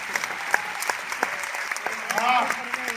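Audience clapping at a comedy poetry gathering in Chennai, scattered sharp claps in an uneven rhythm with a brief denser swell of crowd noise near the end.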